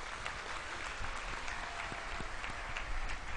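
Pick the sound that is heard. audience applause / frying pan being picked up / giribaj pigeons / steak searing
audience applause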